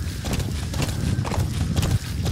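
A horse walks in Metal Gear Solid V, its hooves clip-clopping in a quick, uneven rhythm over a steady background, fairly close and clear.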